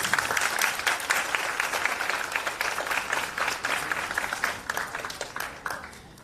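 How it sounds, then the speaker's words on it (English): An audience at a university design week event applauds to welcome a speaker, dense sustained clapping from a large crowd that holds steady throughout and tapers slightly at the end. "Please join me in welcoming Akib with a huge round of applause."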